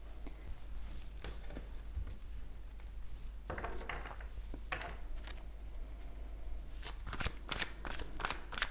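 A deck of tarot cards is shuffled by hand up close, in several quick riffling bursts and flicks separated by brief pauses, fairly quiet and without talking.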